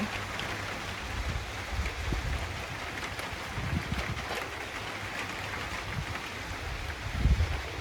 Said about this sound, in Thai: ร้อนแต่นี้ฝนตก แล้ว นะคะฝนตก แล้ว ค่ะมืดขึ้นเลย